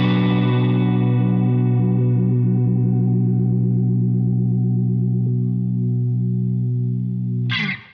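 A guitar runs through a Beetronics SeaBee chorus pedal, and a sustained, distorted chord swirls with a wobbling chorus effect. It rings loud and alone for several seconds, then cuts off abruptly at the end.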